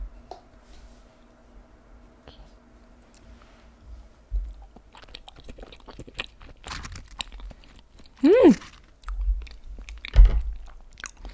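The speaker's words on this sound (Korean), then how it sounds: "일단은 딸기부터 먹겠습니다" Someone eats strawberry mochi, biting and chewing in soft, close crunches and sticky mouth sounds, with a brief hummed vocal reaction partway through.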